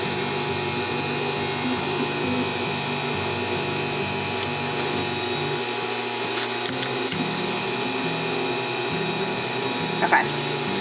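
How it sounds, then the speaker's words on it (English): A sewing machine stitches along the edges of a fabric face mask, a continuous mechanical whir and hum at an even pace with a few brief clicks, no talking. "So then we're going to sew along the bottom edge and the top edge,"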